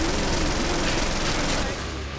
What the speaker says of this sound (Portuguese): Essa arma é muito ruim, tipo, ela atira muito rápido.